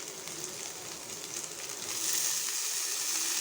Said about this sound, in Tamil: அளவுக்கு வதங்கினோடனே முட்டைக்கோசையும் பச்சை பட்டாணியும் சேர்த்து நல்லா வதக்கிக்கோங்க